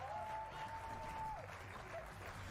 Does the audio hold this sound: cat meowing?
no